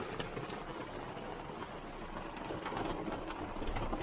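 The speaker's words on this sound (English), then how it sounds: "Oh, there's the Florida rain." Steady, dense Florida rain hiss with a broad wash of noise and a low rumble underneath, continuous and unbroken.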